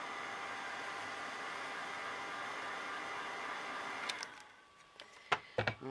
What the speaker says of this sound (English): So I can show my heat gun was heating up.